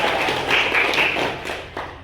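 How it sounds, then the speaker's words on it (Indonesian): Classmates clap for a student group in a classroom, giving a short, steady burst of scattered hand clapping at close range. "Oke, tepuk tangan dulu untuk kelompok."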